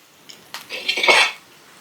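Ragi flour being mixed into dosa batter in a bowl, a short burst of utensil clatter and scraping lasting about a second, close and fairly loud, with no voices.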